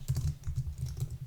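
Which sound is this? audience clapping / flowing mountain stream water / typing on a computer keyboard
typing on a computer keyboard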